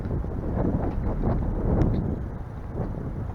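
Steady wind buffeting the microphone outdoors, a low rumbling roar that stays fairly constant throughout.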